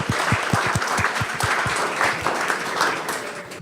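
A panel audience at a corporate insights event in San Francisco applauds the panelists: a burst of claps, sharp and separate at first, then blurring into a fuller, steady patter of applause.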